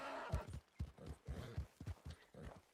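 A horse in Red Dead Redemption 2 gives a short whinny followed by quick clip-clopping hooves, close and fairly soft, with no one talking.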